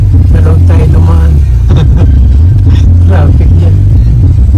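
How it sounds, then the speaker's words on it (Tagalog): Road traffic on a Saturday in Seattle, Washington: a steady, close low engine rumble from passing vehicles runs throughout, with faint clatter and people talking over it. "Traffic yan."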